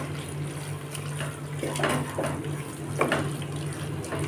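Water poured from a glass into a mutton gravy, a soft steady trickle and splash with brief louder gushes, close by over a low hum.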